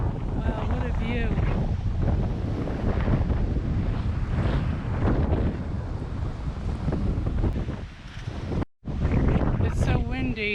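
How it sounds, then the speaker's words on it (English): Strong wind buffets the microphone on a hiking trail in Holiday, Florida, a loud continuous roar with gusty surges and one brief dropout near the end. "It's so windy"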